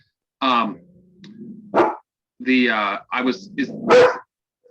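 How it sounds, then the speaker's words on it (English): Dog barking in short bursts right beside a woman, loud and close, with voices and barks trading off across a few seconds. "apparently she's just going to sit here and bark right next to me"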